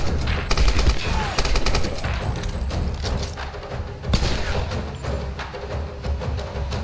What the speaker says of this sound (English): I may not even have access to this machine gun at this point in the game